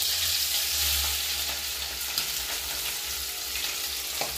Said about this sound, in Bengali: এখন আমি এখানে ডিমটা ভেজে নিচ্ছি, মাছের ডিম এটা।